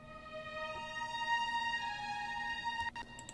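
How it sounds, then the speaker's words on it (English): A high sustained string layer from an Embertone orchestral sample library, a soft bowed note with a thin high overtone line, held quietly for a few seconds before fading with a brief clicky tail. "So I layered it with a high string, which sounds like this"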